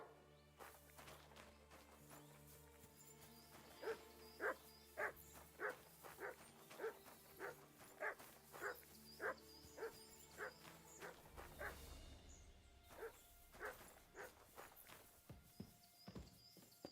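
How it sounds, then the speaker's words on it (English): A dog barks in Kingdom Come: Deliverance 2 with a regular series of sharp barks, faint and somewhat distant, broken by a brief pause and then a few more barks. "No one wants to hear your barking."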